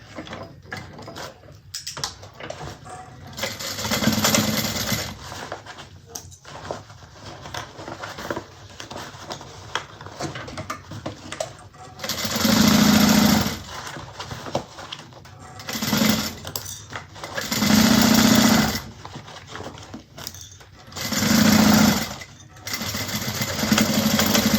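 A sewing machine stitches a bag lining seam in several short bursts of rapid whirring and clatter, close and loud, separated by quieter handling pauses.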